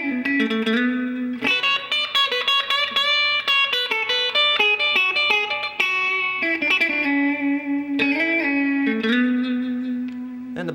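A budget Xaviere electric guitar on both pickups plays clean, bright, twangy licks and sustained chords through a Gibson tube amp, loud and close with no talking.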